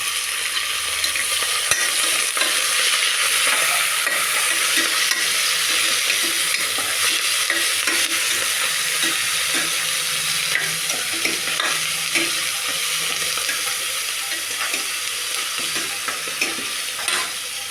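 Tomato pieces and curry leaves fry in a pan with a steady, close hissing sizzle, occasional stirring scrapes breaking through, and no voices.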